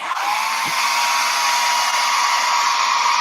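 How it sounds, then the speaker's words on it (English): A hairdryer blows loud and steady from start to finish on special-effects makeup, a constant close whoosh with a faint motor whine. "I'm going to take a little hairdryer to them."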